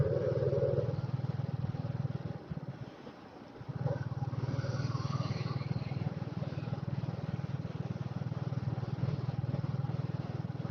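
A group of motorbikes riding in a line on a road trip from Kolkata to Purulia, heard as a steady, close engine drone with wind rush, briefly dipping before the engine noise returns.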